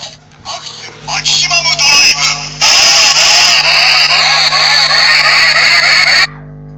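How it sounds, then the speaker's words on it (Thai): A Kamen Rider Accel toy transformation belt in its gold form plays its finisher sound effect. Loud, choppy electronic bursts build into a long, sustained blaring effect with a synthesized announcer-style voice, then it cuts off abruptly. "ฟังเสียงของท่าไม่ตายของมัน"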